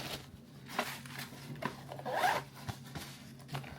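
A zipper on the top compartment of a DJI Mini 5 Pro drone carry bag is pulled open in several short rasping runs, up close and with no talk.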